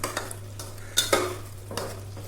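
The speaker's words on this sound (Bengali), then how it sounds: "আমি এইভাবে মাংসটাকে 7-8 মিনিট কষিয়ে নেব।" A spatula stirs and scrapes vegetarian meat curry as it is sautéed in a pan, giving a few sharp scraping strokes over a faint steady hum, with no talking.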